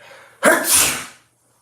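A single loud sneeze close up, a sharp intake followed by a bursting exhale that trails off into quiet.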